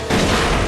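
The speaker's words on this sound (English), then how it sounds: "Explodey barrel!" Explosive barrel blowing up in Resident Evil: Code Veronica X, a single loud, close boom that hits hard and leaves a dense rumbling crash for the rest of the moment.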